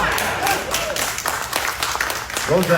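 Audience applause at a Q&A panel during a Superman Celebration fan event: a short burst of scattered clapping from the crowd, mixed with voices talking over it.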